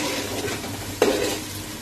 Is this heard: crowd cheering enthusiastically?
no